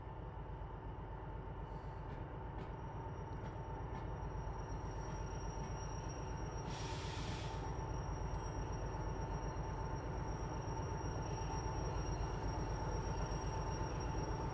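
A modified locomotive runs in a railway video game, a steady rumbling drone with rhythmic clatter throughout and a brief hissing burst partway through.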